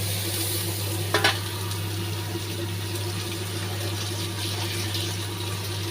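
Vegetables tossed into a spice paste already frying in oil in a pan, producing a continuous sizzle with a brief clatter of pieces dropping in early, over a steady low hum.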